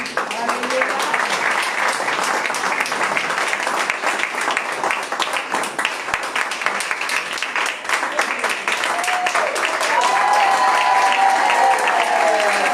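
A church congregation applauding, sustained dense clapping with cheering voices mixed in, loud and close, swelling slightly toward the end as a voice rises above it.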